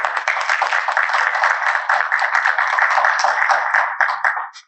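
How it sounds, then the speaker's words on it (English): An audience at a 2022 economic development meeting gives a round of applause, with brisk, continuous clapping from many hands holding a steady level before fading out at the very end. "So please give them a round of applause."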